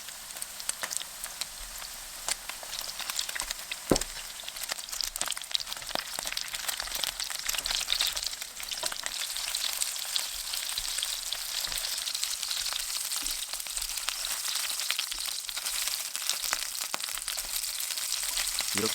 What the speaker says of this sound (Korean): 이와 같은 방식으로 나머지 새우들도 마저 튀겨줍니다.